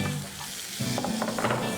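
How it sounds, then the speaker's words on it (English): Finely chopped tomatoes go into a pan of frying onions, and a soft sizzle swells as they land, with a few light scraping and stirring clicks close by. "To this I'm going to add some finely chopped tomatoes."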